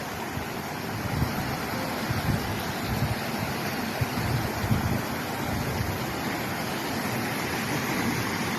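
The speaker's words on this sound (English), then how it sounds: "Wow, and there's little waterfalls." A steady wash of rushing water from small waterfalls by a mountain trail, broadband and continuous, with light wind noise over the microphone and no voices.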